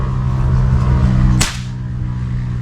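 An air rifle fires an 18-grain pellet at a 20-meter benchrest range with one sharp, close crack standing out against a steady low background hum.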